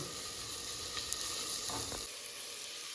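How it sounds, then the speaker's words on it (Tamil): Onions sautéing in oil for biryani, a quiet, steady sizzle with a couple of soft stirring scrapes near the middle. "நல்லா வெங்காயம் வதங்கட்டும்"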